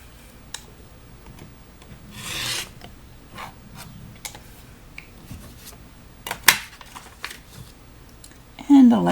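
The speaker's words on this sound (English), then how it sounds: "Let's bring this over and trim away that extra fabric." Extra fabric trimmed from a quilt block with a rotary cutter or scissors, a few rasping, rubbing cuts and handling noises close by, with a voice speaking at times.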